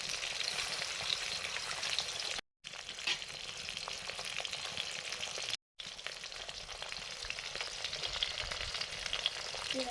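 Rui fish curry broth in a pan gives a continuous bubbling, crackling sizzle, close and fairly even throughout, with two brief cuts in the sound.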